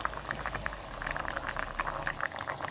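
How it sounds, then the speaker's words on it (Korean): Tuna kimchi stew bubbles steadily in an earthenware pot, a close, continuous run of popping and gurgling boils with no voices over it. "네, 이렇게 조금만 끓여주면 완성입니다."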